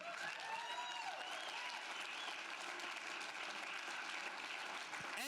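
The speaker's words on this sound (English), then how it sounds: "please give a round of applause to Brenda Lee Jones" A conference audience applauds award recipients at a platinum-level recognition, steady dense clapping filling the room throughout with faint crowd murmur mixed in.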